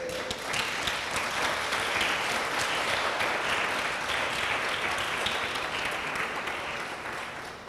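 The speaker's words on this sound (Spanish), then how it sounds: "Dele un aplauso al Señor" Sustained applause from a Spanish-speaking church congregation during a sermon, broad and even clapping from many people that continues steadily and tapers slightly at the end.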